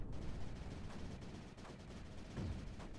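Quiet, muffled mortar fire from the strategy game Creeper World 4, a series of soft low thumps spaced irregularly under a steady rumbling background.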